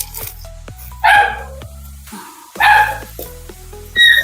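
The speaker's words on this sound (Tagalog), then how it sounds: "Ingay mo, aso" A dog barks three times, a few sharp barks spaced over a few seconds, over steady background music.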